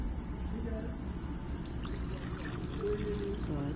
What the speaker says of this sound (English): Now we're gonna add 2 cups of water.